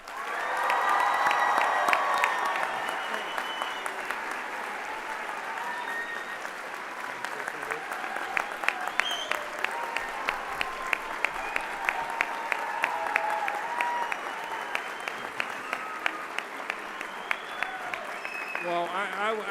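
Sustained applause from an audience at a high school commencement ceremony, a dense steady patter of many hands clapping with some crowd murmur, lasting throughout at fairly even loudness.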